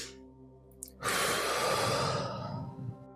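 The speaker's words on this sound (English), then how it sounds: "Take a breath with me for a moment." A person takes one slow, deep breath, a soft airy inhale swelling and then easing off, close and alone in a quiet room.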